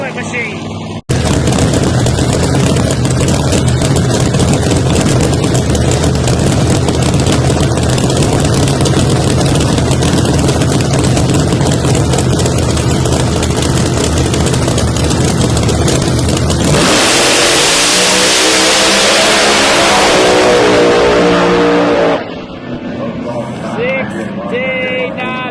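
A turbocharged ProMod drag race car with a fuel tank injector, an MRV billet machine, roars loud and sustained in the far lane at Bradenton, then a sharp high-pitched burst of acceleration, under a commentator's voice.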